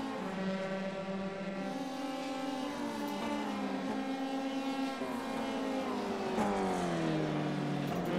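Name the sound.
F3 race car engines in iRacing video game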